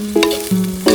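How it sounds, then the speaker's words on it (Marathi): Chicken sizzles in a tempering on an outdoor cooking fire, a brief close frying hiss with short bright stirring scrapes and a steady tonal hum beneath. "जस्ट चिकनला फोडणी दिली."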